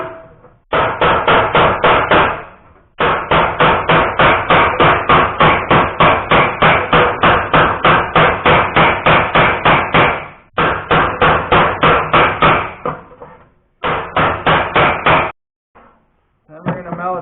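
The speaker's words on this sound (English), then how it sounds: "we got to hammer this area flat because the seatbelt has to fit on there" Sheet metal for a TA22 Celica inner rocker being hammered flat, with rapid, loud, close metallic blows in long steady bursts, broken by a few short pauses, and no voices over the strikes.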